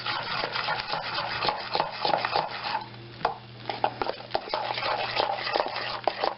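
Cajun caper tartar sauce stirred in a bowl, a busy run of wet clicks and utensil scrapes against the bowl in an uneven, quick rhythm, close and moderately loud, with faint background hum.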